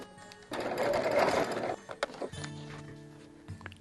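A sewing machine stitches a foundation paper piecing seam in a short close burst of fast needle whirring, then stops, followed by a few soft clicks and handling knocks as fabric and paper are shifted.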